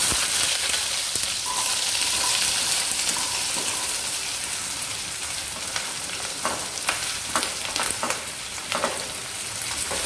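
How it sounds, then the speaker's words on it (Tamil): Shallots, curry leaves and masala frying in sesame oil for a Madurai mutton pepper fry, a loud constant sizzle with occasional stirring scrapes, close up and with no talking. "இந்த மசாலா எல்லாத்தையும் நம்ம நல்லெண்ணெயில நம்ம ஃப்ரை பண்ணி எடுத்துடலாம்."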